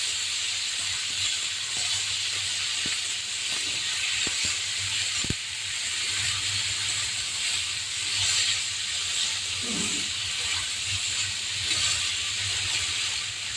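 Potatoes frying in a pan with a stone-ground onion, ginger and garlic spice paste make a continuous close hiss and sizzle, with a few sharp taps of stirring against the pan.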